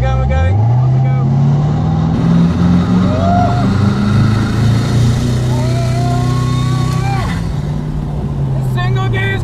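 A Koenigsegg Regera hypercar with a single gear pulls away under a loud, rising engine and drivetrain drone that stays close and constant, and a voice can be heard over it.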